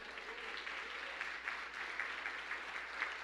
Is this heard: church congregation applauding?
yes